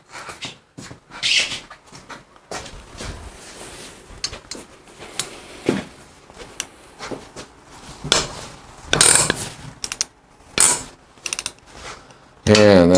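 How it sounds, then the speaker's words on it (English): A long-handled ratchet with a 12-point socket loosens the big, deep nuts on a Harley Evo engine head, making repeated close clicking bursts with pauses and metallic clinks between them. "using a 12-point socket and a long-handled ratchet, it's no big deal"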